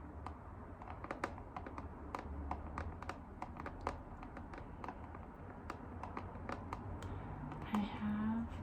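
Fingertips tap quickly and irregularly on an iPad fitted with a paper-feel screen protector, producing crisp close-up clicks in uneven bursts while a soft voice speaks quietly underneath.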